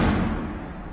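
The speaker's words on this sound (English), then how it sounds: "Oh, grenade." Grenade blast in Rainbow Six Siege: a single booming burst that opens loud and then rolls off into a long, low rumbling tail, with no voices over it.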